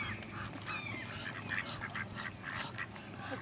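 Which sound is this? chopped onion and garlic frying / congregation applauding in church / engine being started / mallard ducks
mallard ducks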